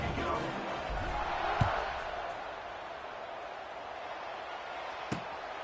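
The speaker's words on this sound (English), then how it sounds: "this crowd is buzzing after that last score" Broad stadium crowd buzz from a college football video game fills the background steadily, with a couple of sharp thuds standing out from the continuous murmur.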